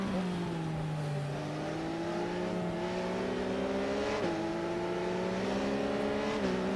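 A Triumph Daytona sport motorcycle engine in the Ride 6 racing game holds a steady, high, droning tone with brief upshift dips, continuous and close throughout.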